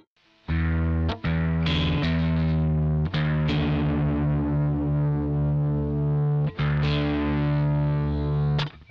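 Distorted electric guitar tuned to drop D with effects such as chorus plays a sustained riff, ringing chords broken by a few sharp pick attacks and brief stops, loud and alone throughout.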